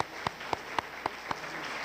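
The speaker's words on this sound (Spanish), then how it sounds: "quiero pedirles que ustedes mismos se den un fuerte aplauso por estar en este evento" An audience at a political talk applauds itself, with a soft bed of clapping punctuated by sharp, evenly spaced claps that land about four times a second.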